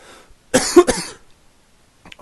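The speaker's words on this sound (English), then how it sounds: "Forgive me again for the coughing." A man coughs in a short loud burst of two or three hacks, close to the microphone, followed by silence and a faint trailing sound.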